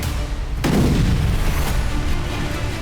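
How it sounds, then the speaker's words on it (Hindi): A Russian missile strikes Kryvyi Rih with one sudden heavy blast that fills the low end, then a long rumbling roar fades slowly in the street. "तभी एक जोरदार धमाका हुआ और आग का गुबार"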